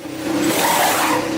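A Formula 1 car during a pit stop, its engine a loud, steady roar held close by for the whole moment, with a hint of tire noise and no voices.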